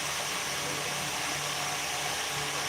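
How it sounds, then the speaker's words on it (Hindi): A room electric fan runs steadily with a broadband whooshing hum and a low tonal drone, constant and close throughout, with no talk over it. "ये पंखे की आवाज़ आपको फुल सुनाई दे रही है या फिर मेरी आवाज़ आपको सुनाई दे रही है।"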